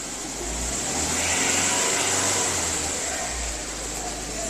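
A Toyota Avanza engine idles steadily just after starting in an automotive workshop, a continuous close rumble with a faint whine on top, and a voice speaks briefly over it.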